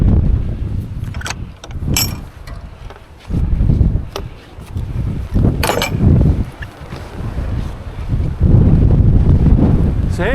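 Strong wind on a Lake District fell roars and buffets against the microphone in uneven gusts, with rumbling surges and brief lulls throughout.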